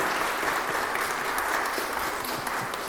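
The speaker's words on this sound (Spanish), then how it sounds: "Un fuerte aplauso, por favor" Audience applause welcoming a lecturer at a public astronomy talk in a university hall in Mexico City, a dense, even patter of many hands clapping at a moderate distance, holding steady for three seconds.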